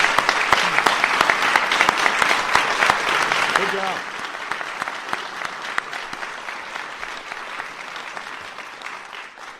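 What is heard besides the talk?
audience applause for Teachers of the Year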